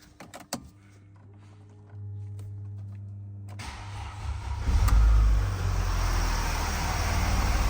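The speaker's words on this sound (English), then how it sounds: "as you can see and hear, the engine is running great without any weird noises" A Mercedes-Benz CLS C219 320 CDI diesel, started with a booster after a transmission belt kit replacement: a few clicks and a whirring electric motor, then the engine cranks and catches into a loud, steady, close idle.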